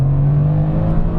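A Mercedes C63 S AMG coupe launches at full throttle, its engine holding a loud, steady, close-up roar for a little over a second with no voices.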